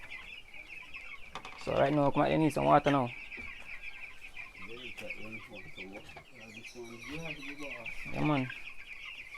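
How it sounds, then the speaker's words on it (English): Chickens in a fowl coop on a small Jamaican poultry farm cluck in bursts of repeated calls over a steady background hum, while someone speaks between and over them. "So right there we have some chicken."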